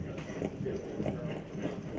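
A young horse's hooves clip-clop on the ground at a slowing pace, rhythmic thuds repeating close by over a low background rumble.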